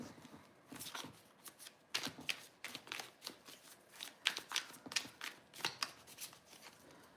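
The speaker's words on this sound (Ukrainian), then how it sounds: "Мішаю карти на Київ." Playing cards being shuffled by hand during a tarot-style card reading, a run of crisp riffling and flicking bursts in irregular rhythm, close and fairly quiet, with no talk.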